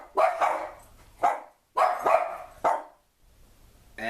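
A dog barks several times in short bursts, loud and close, with pauses between the barks and another bark starting at the end.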